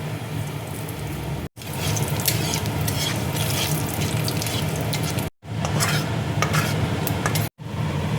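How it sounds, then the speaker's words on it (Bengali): Nigella seeds (kalo jire) crackle in hot oil in a wok, a steady dense sizzle filling the whole clip and cut by a few brief silent gaps, with no talking. "কড়াইয়ে দেখো তেল দিয়েছি, তেল দেখো গরম হয়ে গেছে। এবার আমি কালো জিরে ফোড়ন দেখো দিয়ে দিচ্ছি"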